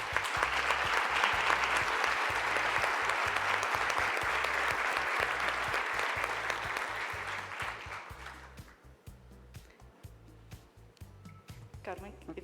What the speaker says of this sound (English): So a big applause, please, for all the contestants and the winners.